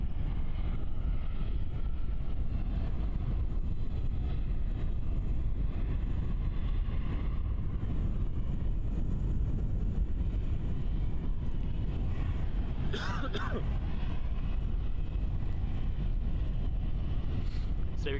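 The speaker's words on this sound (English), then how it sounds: "I've always found Boeings to be very noisy planes." A Boeing Dreamliner airliner at Christchurch airport, a loud, continuous low engine rumble and roar that holds steady and close, with wind buffeting the microphone.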